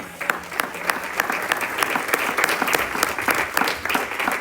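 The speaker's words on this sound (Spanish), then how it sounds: "Dale un aplauso a Dios" A church congregation applauds at a sermon's close, a dense, steady clapping from many hands filling the room, loud and sustained without a break.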